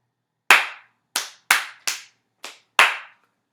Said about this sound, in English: I'm going to clap one of those